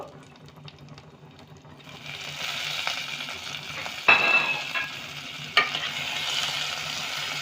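Two chopped medium tomatoes drop into a hot pan for shahi paneer and burst into loud sizzling, which carries on steadily under repeated spatula scrapes and a couple of sharp knocks.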